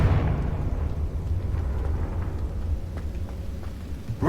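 A Confringo spell explosion in a Harry Potter-style dungeon video game rumbles low and continuous, a deep booming roar that stays loud for several seconds.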